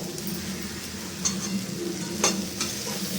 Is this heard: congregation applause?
no